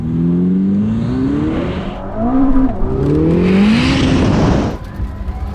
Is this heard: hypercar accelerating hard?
yes